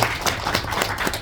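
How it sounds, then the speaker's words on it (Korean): A short burst of lively applause at a political gathering, many hands clapping at once, loud and close. "박수 한번 주시고"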